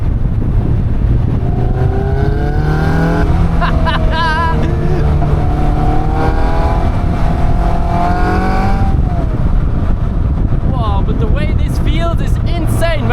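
A Caterham 340S sports car engine roars loudly throughout at close range, its pitch climbing and falling through rev changes with a clear blip and drop around a downshift, while a voice speaks briefly over it.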